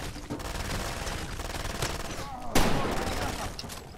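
Rapid gunfire in the video game Far Cry 2 during a firefight, with steady dense shots throughout and a sharper louder burst near the end, under occasional speech.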